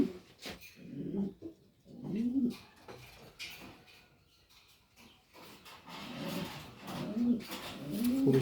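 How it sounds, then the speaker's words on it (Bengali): Pigeons in a breeding loft cooing softly in repeated low, throaty bursts, with quieter gaps between calls and faint rustling in the background. "খুবই সুন্দর কবুতর।"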